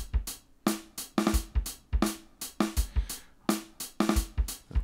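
A boom bap drum beat plays with deliberately sloppy timing, its hi-hats falling unevenly and the snare hits landing early or late against thumping kicks, steady and loud with no talking.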